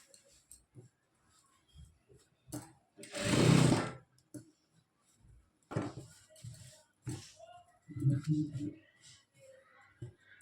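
A sewing machine stitches a round edge on a lehenga in one loud burst, then a few shorter runs. Someone talks in between the bursts, and soft handling noises come and go.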